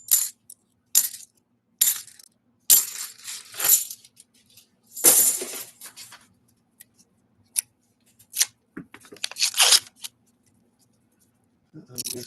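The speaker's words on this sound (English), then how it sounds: "Got some breaking paper here" A paper wrapper on a roll of half dollar coins is torn and broken open, giving close, crisp crackling rips in irregular bursts, with metallic coin clinks and short pauses between.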